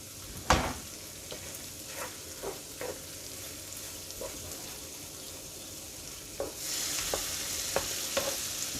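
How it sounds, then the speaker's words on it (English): Vegetables fry on a home hibachi-style griddle, a steady soft sizzle broken by sharp scraping clicks of a spatula stirring, with the sizzle growing brighter and louder near the end; no talking. "Our veggies are cooking up nicely."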